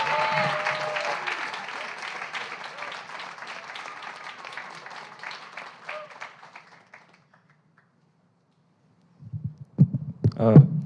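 Audience applause at a creative writing graduate reading as a reader is welcomed to the stage, a full, steady round of clapping that fades out to silence, then footsteps and faint stage noises.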